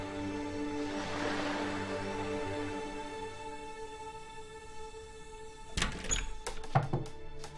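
Several sharp knocks on a door, a short irregular cluster of hard thunks near the end, following a steady hum with no talk.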